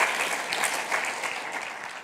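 A church congregation claps together, a dense, even burst of applause heard fairly close for a couple of seconds.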